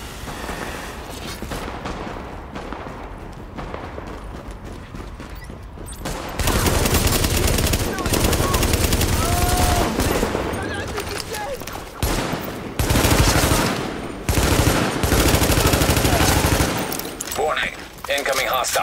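Enemy gunfire in Tom Clancy's The Division, a dense fusillade of rapid automatic shots that grows louder and keeps rattling in long bursts, with a short automated voice warning over the shooting.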